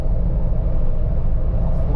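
A Jeep fitted with American Iron ball joint delete parts cruises down the road at about 47 mph, its steady low engine and tire rumble loud and close throughout.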